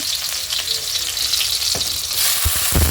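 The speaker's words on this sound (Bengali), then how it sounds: "এখন একটা কড়াইতে তেল দিয়ে দিলাম পেঁয়াজ কুচি" Chopped onion frying in oil in a kadai sizzles steadily and close, with a few soft stirring knocks near the end.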